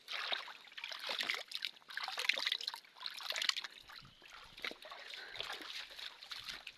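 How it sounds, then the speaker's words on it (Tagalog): Water trickles and splashes in a small rural stream, a faint, bubbling, uneven flow heard up close with no clear speech. "At andito na tayo sa sapa."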